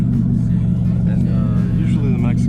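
A 4x4 truck engine idles roughly, a possible oil feed fault, making a steady low rumble that fills the whole clip with no break.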